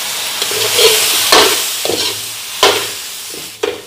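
Pork ribs are stirred with seasoning in a pot, with a light sizzle underneath. A spoon scrapes and clanks against the pot in several separate strokes, close by.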